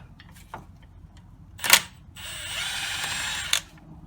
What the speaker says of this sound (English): Okay, now we're gonna take off two these guide pins, slide pins, and it's a T55.